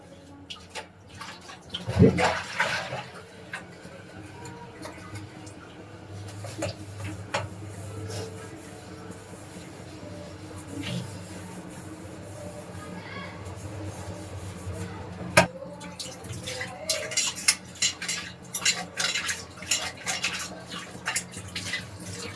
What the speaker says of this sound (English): And now I am just about to, wash the dishes.